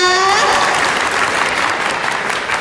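An audience at an MC school event in Surabaya claps loudly and steadily, the applause taking over as a sung or sustained voiced tone fades in the first half-second.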